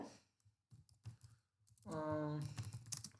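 Quick bursts of computer keyboard keystrokes, close and crisp, come in short irregular clusters while a database query is typed, with a brief voiced sound partway through.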